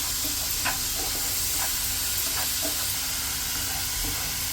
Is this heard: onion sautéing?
yes